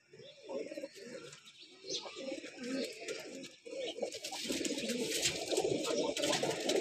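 Teddy breeder pigeons, kept for sale in Lahore, coo in overlapping low throaty calls close by, mixed with chirps from other birds and a steady background hiss.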